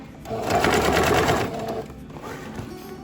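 Close and loud, a sewing machine runs in a fast, even burst as it stitches bias binding on a travel bag, then slows to a quieter whir with a faint voice under it.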